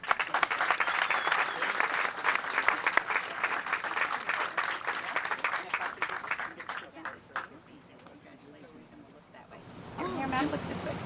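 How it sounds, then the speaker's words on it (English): Applause at a military captain's promotion ceremony, a lively burst of clapping from the gathered crowd that thins out and stops partway through, with people talking afterward. "Big round of applause."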